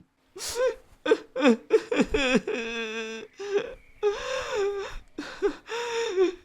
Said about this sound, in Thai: แผ่นหลังแกร่งสั่นสะท้านตามเสียงสะอึกสะอื้น